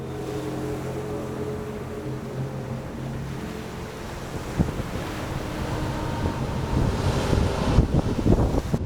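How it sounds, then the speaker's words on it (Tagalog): Strong wind roars across the microphone at a seaside spot with a sea tunnel and cliff diving, with heavy surf of head-high waves breaking and surging louder toward the end; no voices. "Ang taas ng alon, lagpas tao."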